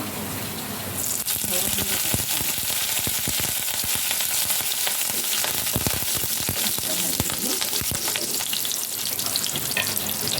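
Onions fry in mustard oil in a pan with a loud, continuous sizzle that surges after the first second, broken by occasional stirring scrapes and clatter.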